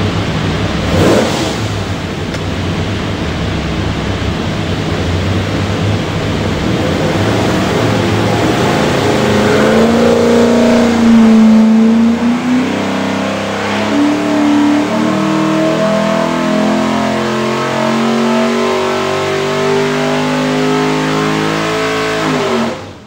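A Borla-stacked 427 Ford V8 built for a Superformance GT40 revs on a dyno, holding a loud steady drone before climbing in pitch through a long sweeping pull, then cutting off abruptly at the end.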